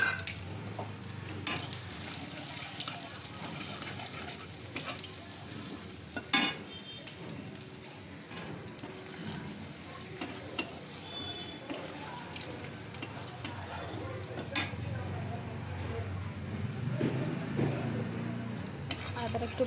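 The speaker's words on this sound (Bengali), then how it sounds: "আদাটা একটু ভালো করে ভেজে নেব।" Chopped ginger and nigella seeds sizzle in oil left over from frying fish, a soft continuous crackle with occasional stirring clinks and faint background voices.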